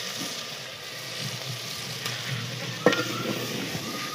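Onion, tomato, green chilli and garlic fry and sizzle in a pot in a village kitchen, a steady soft hiss with stirring throughout and one brief sharp scrape near the end.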